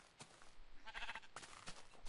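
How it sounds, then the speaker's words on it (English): A sheep in the Minecraft video game bleats as it gets hit: a short, faint, wavering cry in a quiet scene, cut off by soft clicks and thumps. "Who just hit that sheep? Poor sheep."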